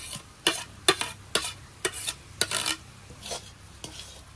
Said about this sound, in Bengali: এবার মাছের সাথে কচু শাকটা একদম মিশিয়ে নেব